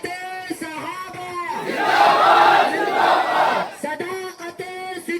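Loud massed voices of a crowd at a Muslim protest rally in Parbhani chant a slogan together in one sustained swell, framed by a single leader's voice calling out before and after.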